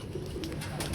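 Pigeons give soft, low cooing calls, faint and brief, against quiet background noise with no talk.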